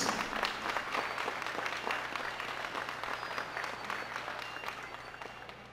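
An audience at a government report ceremony in Tamaulipas breaks into sustained, even applause at a moderate distance, slowly tapering toward the end.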